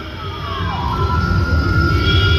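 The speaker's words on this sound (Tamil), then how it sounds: "இந்த மாதிரி ஆம்புலன்ஸ் சர்வீஸும் போலீஸ் நீங்கள் எல்லா இடத்துலையுமே பார்க்கலாம்." Ambulance siren wailing amid the crowd at the Attukal Pongala festival, a rising and falling electronic tone steadying into a held pitch over a loud, dense background of crowd and traffic noise.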